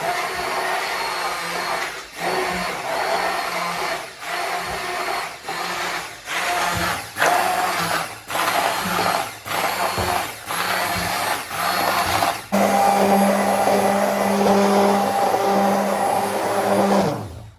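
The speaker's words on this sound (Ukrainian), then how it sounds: "І зараз будемо блендерити" A blender purees pumpkin cream soup, its loud motor whirring in repeated short pulses before running steadily for the last few seconds.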